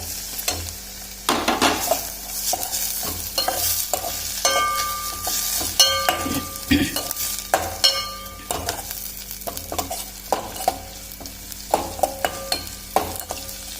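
Tomatoes cooking in a pan with garlic, mustard seeds and curry leaves for a yogurt chutney, heard as a sizzling fry with repeated spatula scrapes and stirring knocks, close and busy throughout.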